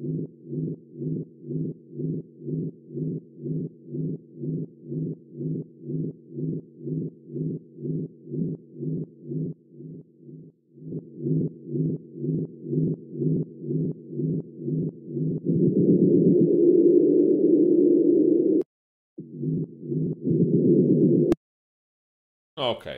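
Techno rumble kick built in FL Studio with ring modulation, a steady pulsing four-on-the-floor thump with a droning low rumble tail, swelling into a denser sustained rumble near the end before a brief cut and a sharp burst.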